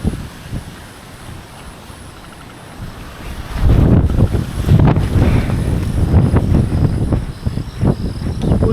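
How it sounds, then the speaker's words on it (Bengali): Strong storm wind blows around a yard with mango and papaya trees, starting as a softer rush and then surging into loud, continuous buffeting gusts against the microphone for the rest of the stretch. "দেখেন এত পরিমাণ বাতাস হইতেছে"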